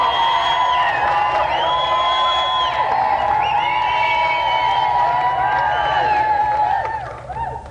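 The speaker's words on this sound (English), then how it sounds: "Another round of applause for our special guest, David Coulthard." A television game show studio audience cheers and whoops at a steady, loud level, with bright tonal music running over the crowd throughout before fading near the end.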